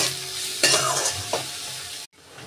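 A spoon scrapes and stirs spices, salt, turmeric and coriander-cumin powder through a hot pan over a continuous sizzle, with a couple of sharper clinks before it cuts off.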